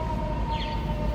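A siren wails at steady volume, a sustained tone with a faint rising sweep, carrying over city background noise in Nashville.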